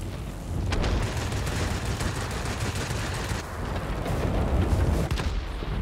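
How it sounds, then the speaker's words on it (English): A plane blows up in World of Warplanes: a loud, dense roar of blasts and rattling gunfire runs almost unbroken for several seconds, with no one speaking. "And then I just explode out of nowhere."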